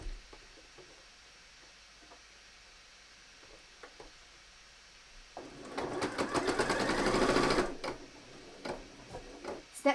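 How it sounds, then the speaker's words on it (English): A sewing machine stitching a bomber jacket sleeve starts after a quiet stretch of small handling taps, running in a fast, steady mechanical whir for about two seconds before stopping, followed by a few clicks. "Stitch from the sleeve side up"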